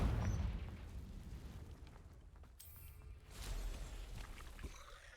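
A Confringo fire spell explodes in Hogwarts Legacy, a broad rumbling blast with a crackling burst and a second swell of noise partway through, fairly close and without voices.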